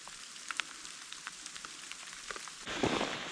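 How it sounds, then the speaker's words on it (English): Rain falling during a mountain hike on the Lycian Way in Turkey, a soft continuous patter with scattered crisp drop ticks, swelling into a heavier, louder shower toward the end. "It's only a bit of rain, Jordan."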